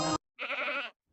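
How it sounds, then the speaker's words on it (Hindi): Cartoon goat bleats once in a wavering, harmonic-rich cry lasting about half a second, preceded by a brief separate tonal sound and followed by near silence. "अरे, यह तो बकरी के चिल्लाने की आवाज है"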